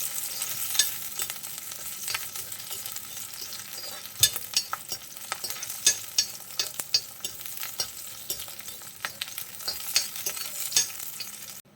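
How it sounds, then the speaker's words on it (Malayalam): Green chilies and ginger frying in oil in a pan for lemon rice, a continuous crackling sizzle punctuated by sharp scraping stirs and clicks throughout, close and with no voices. "ഇഞ്ചി ചെറുതായിട്ടൊന്ന് മൂത്ത് കഴിഞ്ഞാൽ, ഒന്ന് വാടി വന്നു കഴിഞ്ഞാൽ ഒരു 2 പച്ചമുളക് നമുക്ക് ചേർത്ത് കൊടുക്കാം."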